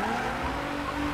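A GTR's tires skid and squeal in a brief drift, a harsh steady screech over engine noise with no voices.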